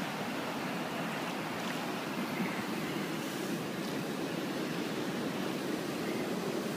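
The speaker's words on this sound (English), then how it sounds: "There's the rapid." River rapids near a fishing spot rush as a steady broadband roar of whitewater, continuous and moderately loud, with no voices over it.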